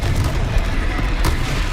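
A Confringo spell explosion in the video game Hogwarts Legacy sounds as a continuous low booming rumble that stays loud and dense for the whole short moment, with a brief brighter burst near the end.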